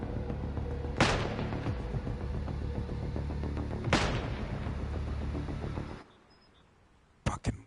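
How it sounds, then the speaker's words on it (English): Mortar rounds impact during a ground firefight in Kunar Province, two heavy broadband booms about three seconds apart over dense sustained noise that cuts out suddenly, followed by a couple of sharp cracks near the end. "Fucking more mortars."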